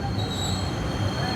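The Matarmaja economy train pulls out of Semarang Tawang station with steady, loud wheel squeal and rail rumble, heard close from on board, continuous and without talking.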